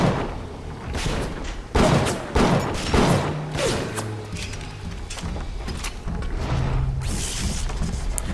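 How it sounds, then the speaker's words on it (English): Enemy stumbling through a cluster of traps in the BioShock video game, heard as a run of sharp, loud bangs and thuds that burst irregularly over a busy game soundscape, with a few brief tonal blips. "That was the sound of him walking through the traps"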